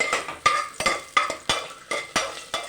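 Cinnamon sticks and cloves are stirred in a hot pan, making a regular series of sharp metallic scrapes and clinks about every third of a second over a faint sizzle, close and distinct.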